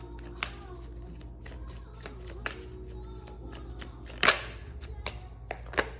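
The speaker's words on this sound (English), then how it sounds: "Shuffling for Scorpio." Tarot cards being shuffled by hand, close crisp riffles and slaps in irregular bursts with a few sharp snaps, over a low steady hum.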